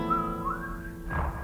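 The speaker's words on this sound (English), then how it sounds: "He had no face, yet somehow he was whistling." A person whistles a short, wavering melody, close and clear, ending in a brief burst of noise.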